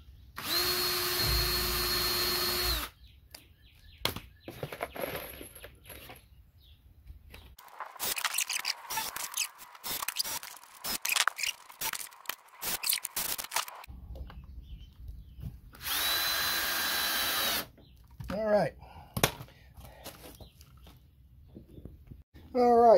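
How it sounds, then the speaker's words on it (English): A power drill bores a hole to fasten porch lattice outdoors. A few loud whirring bursts are separated by quieter stretches of clattering handling noise and some talking. "So what we're gonna do is start by drilling a hole up here"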